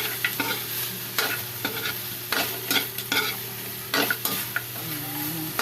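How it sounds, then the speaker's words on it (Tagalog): Pork browns in a hot pan with a continuous crackling sizzle, while a utensil scrapes and stirs it in irregular bursts close by. "papula-pulahin muna natin yung pork"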